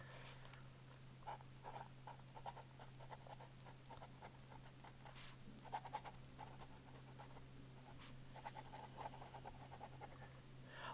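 Fountain pen scratching across paper, a quiet close series of short strokes and scribbles over a steady low hum.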